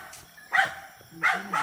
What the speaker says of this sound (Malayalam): ഈ പട്ടികൾ കാരണം കേൾക്കാൻ പറ്റില്ല.